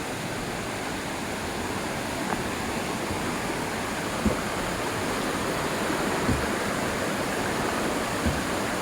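A stream flows steadily beside a wooden footbridge on the Rock Castle Gorge hiking trail, a broad, constant rush of water close by with no voices.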